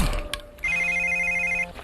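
A telephone rings once with a bright electronic tone lasting about a second. It is close and clear, set after a short clatter of handling noise.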